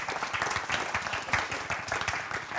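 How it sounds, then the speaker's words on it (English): An audience at a real estate summit applauds panel members being brought up, a steady wash of many hands clapping throughout with a little crowd murmur. "We're going to applaud these guys, aren't we?"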